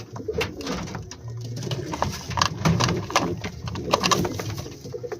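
Pigeons in a racing pigeon loft in Nagercoil coo close by in repeated soft throaty rolls, with several birds overlapping and no speech.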